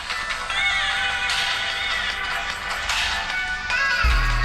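Music plays steadily through the small rear speaker of a Realme DIZO Star 500 feature phone, a thin, tinny song held at a fairly even level with a thump at the very end.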